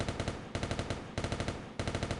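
Rapid bursts of gunfire from the Delta Gundam in SD Gundam Online, four loud mechanical volleys of quick repeating shots, each burst separated by a brief gap.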